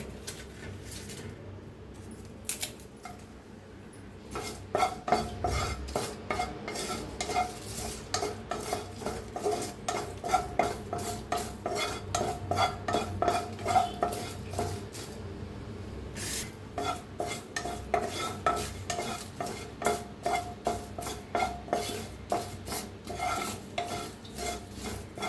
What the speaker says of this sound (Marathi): असं बारीक करून भाजायचं म्हणजे मिक्सरला बारीक होते तेजपत्ता.